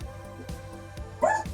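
A small dog barks once, fairly faint, from outside at a window, a short bright yelp near the end amid low indoor thumps and room noise.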